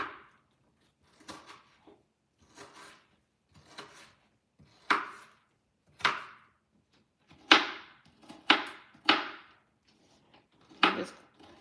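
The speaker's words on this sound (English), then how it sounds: "cutting this onion up very fine to go in my tuna salad" Knife chopping an onion finely for tuna salad, a series of separate sharp cuts on a board, irregular at first and then quicker and louder, with quiet pauses between them.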